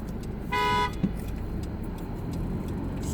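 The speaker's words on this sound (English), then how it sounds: "Somebody honking." A single car horn blast, about half a second long and fairly loud, cuts through steady New York City street traffic noise and engine rumble.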